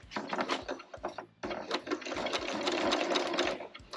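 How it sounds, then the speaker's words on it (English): A sewing machine runs in steady bursts, top stitching around the perimeter of a bag made from an old quilt at a long stitch length, with a short pause before a longer continuous run. "I am going to top stitch around the perimeter of the bag."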